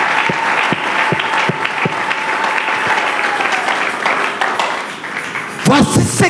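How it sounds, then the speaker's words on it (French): A congregation claps loudly and continuously during a Sunday church service, dense applause with scattered sharper claps, fading slightly before a voice breaks in at the end. "On acclame le Seigneur."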